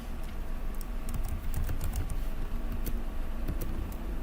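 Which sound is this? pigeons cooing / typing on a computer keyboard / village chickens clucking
typing on a computer keyboard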